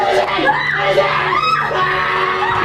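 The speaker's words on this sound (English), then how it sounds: "I like how his girlfriend starts screaming right away." A woman screams in a paranormal vlog, loud, shrill and sustained across the whole moment, with rising and falling wails mixed into a busy, crowded background.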